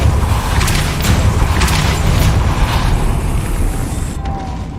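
A Depulso spell cast in a video game, a loud, sustained rumbling blast with repeated booming bursts over a dense mechanical roar, fading near the end.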